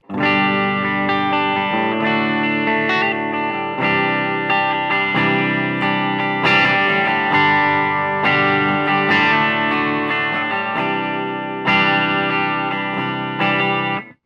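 An electric guitar once owned by Jason Becker plays straight into an Engl Gig Master 30 amp with no reverb, giving dry, distorted, chord-heavy riffs in steady phrases with brief gaps. The playing is loud and close, with no talking.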